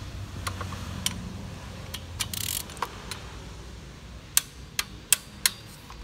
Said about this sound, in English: I'm just going to use the gun just to run the threads down, but not tighten.